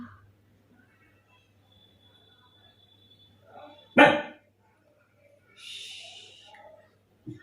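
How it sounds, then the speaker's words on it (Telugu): A single sharp, high puppy bark rings out close by in an otherwise quiet room, followed later by a brief soft rustle. "మా కుక్క పిల్ల మాత్రం అరుస్తూ ఉంది ఓ భయంకరంగా"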